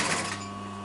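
A sewing machine lock-stitches the piping on a chair cushion, giving a brief, steady mechanical whir at moderate volume with no talking.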